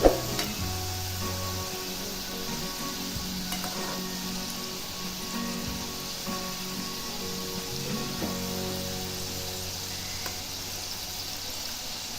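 Fried modak frying in hot oil, shaped from thin dough wrappers for Ganesh Chaturthi: a steady, dense sizzle holds from start to finish at moderate level, with occasional soft tonal hums beneath it and no voices.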